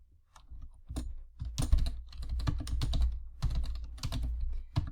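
Computer keyboard keys tapped in quick, uneven bursts while a card name is typed into a project board, close and clear with short pauses between clusters of clicks.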